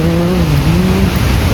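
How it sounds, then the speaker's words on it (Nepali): A river rushes past at a spot popular with tourists, a loud, close, unbroken roar of water with a faint wavering tonal drone running underneath. "यो खोला सुसाइरहेछ।"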